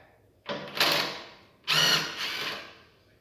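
A nut being turned off a rod with a wrench while a vise grip holds the rod during a Ferris chute blocker install, two separate bursts of close metallic ratcheting, each about a second long.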